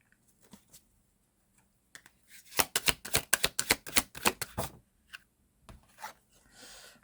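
A rapid run of crisp, close card snaps and riffles from a tarot deck being shuffled and drawn, lasting a couple of seconds, followed by a few softer slides and taps as single cards are pulled, with no one speaking.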